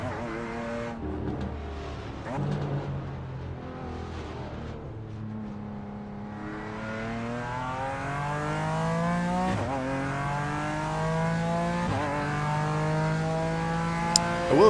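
A BMW M4 GT4 race car engine in a racing video game revs and climbs through the gears, the pitch rising and dropping with each upshift, close and steady throughout with a brief click near the end.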